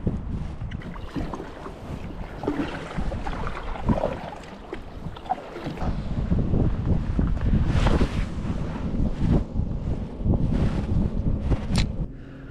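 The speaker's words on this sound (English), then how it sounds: "Well, it's been really windy." Wind gusting across a lake buffets the microphone of a fishing kayak, a steady broadband rumble that swells louder and rougher in the second half, with no talking.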